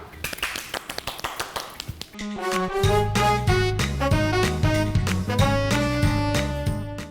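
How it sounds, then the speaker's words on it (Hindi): Studio audience on a TV talk show claps in a quick, even run of sharp claps for about two seconds before a loud music jingle takes over and carries on to the end. "तालियां।"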